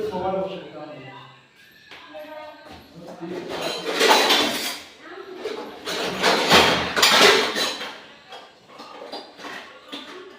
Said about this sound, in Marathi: सगळी भांडी आता आपण व्यवस्थित स्टँड मध्ये लावून घेऊया